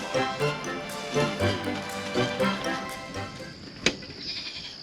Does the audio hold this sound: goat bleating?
yes